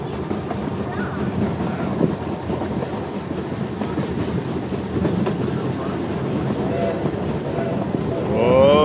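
A steam train runs along rails near Los Gatos, California: a continuous close rumble with clickety-clack from the cars. Voices talk over the ride, and a higher tone rises near the end.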